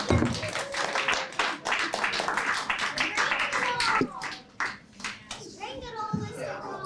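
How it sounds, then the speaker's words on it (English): Audience at a school meeting claps in a dense round of applause that fades after a few seconds, with children's voices chattering underneath and continuing after. "Give them a round of applause"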